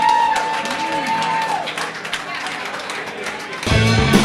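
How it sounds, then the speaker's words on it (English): A crowd at a Tucson jam session claps and cheers for a musician. Voices and steady tones run under the noise, and a louder burst of music or sound comes in near the end. "Everybody give a round of applause for Deacon for keeping this shit going,"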